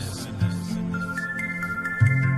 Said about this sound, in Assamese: মোৰ মোবাইলৰ মেছেজ এলাৰ্ট টিউনটো যেতিয়া বাজি উঠিছিল